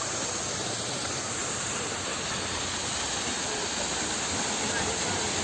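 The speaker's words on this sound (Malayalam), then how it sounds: "നല്ല അത്യാവശ്യം നല്ല ഹൈറ്റിൽ നിന്നാണ് വെള്ളം ചാണ്ടത് നല്ല അടിപൊളിയായിട്ട് വെള്ളം ചാടുന്നുണ്ട്" Kolli waterfall in Kollam roars as water drops from a good height, a steady dense broadband rush that fills the whole clip without pause.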